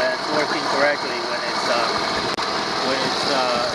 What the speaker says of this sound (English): This is a very nice engine, 8 horsepower